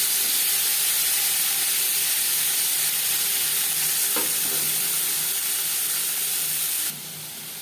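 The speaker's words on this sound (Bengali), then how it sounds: "2 চামচ রিফাইন্ড অয়েল গরম করে নেওয়ার পর দিয়ে দিলাম ম্যারিনেট করে রাখা মাছ।" Marinated prawns fry in two spoons of hot refined oil, giving a loud continuous close sizzle and hiss with a couple of brief stirring taps, steady throughout until it drops slightly near the end.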